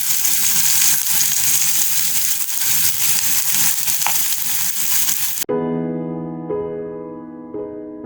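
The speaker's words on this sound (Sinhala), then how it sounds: "ලුණු ටික බැදෙනකන් තියා ගන්නවා." Onions fry in a pan with a loud, dense sizzle and crackle for about five seconds, then the frying cuts off abruptly and gives way to steady tonal music.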